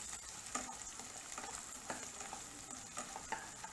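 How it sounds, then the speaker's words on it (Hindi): A medium onion, cut into slices, frying in a pan for noodles: a steady close sizzle with occasional scraping stirs, and no talking. "इसे हम 2 से 3 मिनट तक अच्छे से कुक कर लेंगे ताकि हमारा प्याज जो है वो ट्रांसलूजेंट हो जाए।"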